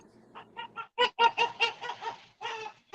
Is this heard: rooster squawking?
yes